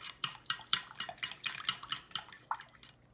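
Egg and cold water for tempura batter whisked in a bowl, a steady run of quick clinking strokes against the sides, close and fairly soft, with no talking.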